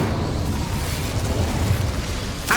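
The Incendio fire spell is cast in the Hogwarts Legacy video game, giving a dense, roaring burst of fiery rumble that holds steady for a couple of seconds, with a sharp crackle at the end.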